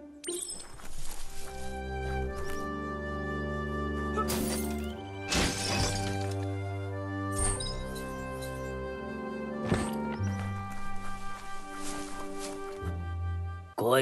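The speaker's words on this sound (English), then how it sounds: "You shouldn't worry about smashing up the box" A box smashed to pieces in the Biomutant video game, sharp shattering cracks and breaking debris bursts recurring several times over a sustained tonal musical background.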